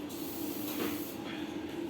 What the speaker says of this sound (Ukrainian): здуваю з балончика фарбою